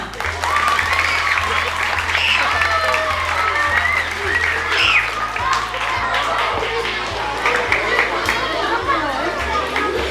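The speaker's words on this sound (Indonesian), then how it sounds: "kasih tepuk tangan dulu temannya" Schoolchildren clap for a classmate during a mid-semester school activity, steady applause running the full length with children's chatter and shouts mixed through it.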